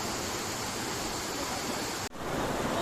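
River water rushing steadily through a canyon, a broad close hiss of flowing current that holds throughout with one brief dip near the end and no talk.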